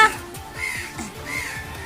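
Crows caw at close range, a series of repeated harsh calls in a steady rhythm, with a person talking faintly underneath.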